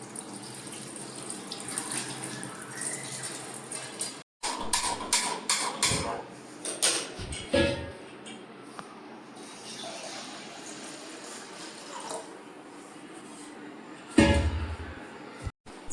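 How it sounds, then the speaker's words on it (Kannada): Toor dal (pigeon peas) being rinsed by hand in water, with splashing and sloshing through most of the stretch, broken by a few brief clatters and a louder swish near the end; no talking. "ಫಸ್ಟಿಗೆ ಒಂದು ಸ್ವಲ್ಪ ತೊಗರಿಬೇಳೆ ತೊಳ್ಕೊಂಡು"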